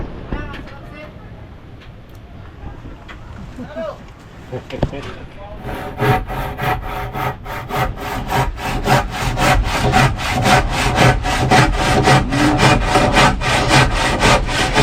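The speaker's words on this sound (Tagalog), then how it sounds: "Mapurula ito ating lagari." A dull hand saw rasps steadily through wood in fast, rhythmic back-and-forth strokes, close and loud, after a few seconds of quieter talking.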